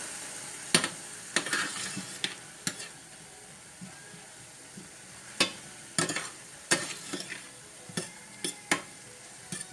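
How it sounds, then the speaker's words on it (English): Vegetable broth poured into a hot pan for vegan Puerto Rican criollo chick'n, a low sizzle broken by repeated scraping stirs and utensil clinks, close and unhurried. "A little bit of veggie broth just to help it break down a little bit."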